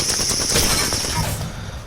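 Alternator submachine gun from Apex Legends firing in rapid automatic bursts, loud and close with a bright ringing edge, then trailing off near the end.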